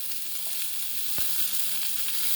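Nigella seeds and green chilies sizzle in hot oil, a steady close crackling hiss throughout with no talk, broken once by a short sharp pop.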